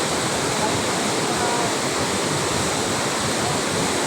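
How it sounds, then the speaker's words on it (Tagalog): Famous shallow waterfall at a popular tourist spot, a steady broadband roar of falling water filling the scene continuously from start to end, loud and close, with no break or variation. "Ito na waterfall guys. Ito sa famous na waterfall guys."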